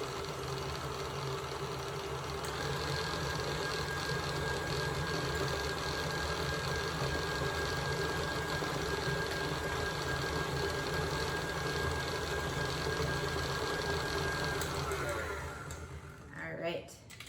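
Electric mixer creaming sugar and butter for pumpkin cookie dough, a steady continuous motor whir that holds for about fifteen seconds and then winds down, with a voice speaking faintly beneath it.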